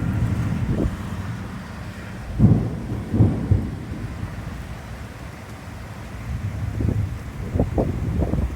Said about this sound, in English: Oh, it's a big thunder.